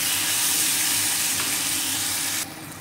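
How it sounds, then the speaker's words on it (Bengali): Raw mango pieces fry for chutney, a steady, close hiss of sizzling oil that runs unbroken before dropping slightly quieter near the end. "তার জন্য আমি লাল লাল করে এটা ভেজে নেব"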